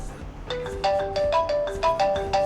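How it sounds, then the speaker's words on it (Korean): Polyphonic melodic ringtone from an iPhone 3GS, a bright repeating tune of clear tones that plays alone for several seconds at moderate loudness. "벨소리"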